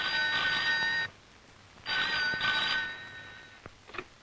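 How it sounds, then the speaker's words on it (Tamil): A telephone rings in a home in an older Tamil film scene. Two long bursts of bright electric bell trill are separated by a pause, followed by a few faint clicks as the handset is picked up. "டெலிபோன் அட்டெண்ட் பண்ணு."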